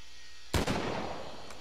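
A single sharp gunshot cracks loudly in the zombie survival video game Walking Dead Survival Instinct, followed by a brief decaying rumble and a faint second report near the end.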